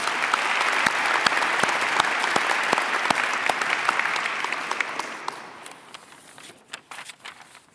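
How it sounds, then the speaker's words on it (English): A school audience at a freshman academy kickoff applauds board members, giving dense, steady clapping with a few sharp louder claps on top, then thinning into scattered claps as it fades. "Let's give them another big round of applause."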